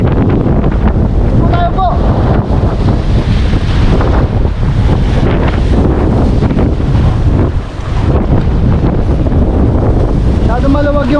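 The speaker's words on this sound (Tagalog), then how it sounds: "Mas ang hangin eh, baka may bagyo." Strong monsoon wind roars over open sea around a small fishing boat, a loud continuous buffeting rush with wave wash, while a voice speaks briefly near the start.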